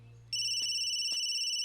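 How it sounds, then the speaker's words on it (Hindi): A telephone starts ringing after a brief low hum, a loud steady electronic tone holding on with a rapid warble, close by and with no voices. "अरे सोनिया की जहां शादी कैंसिल हुई थी वहीं से फोन आ रहा है"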